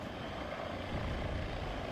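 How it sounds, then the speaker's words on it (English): Z-19 attack helicopter in the combat game WARNO, a continuous low rotor and engine drone, steady and fairly loud with a slight swell partway through, no talk. "Z19 is actually an AA helicopter"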